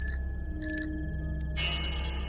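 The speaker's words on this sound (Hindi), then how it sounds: "साइकिल की घंटी सुनाई दी।" A bicycle bell rings in a few short bright dings, then a longer ring, over a low steady background hum.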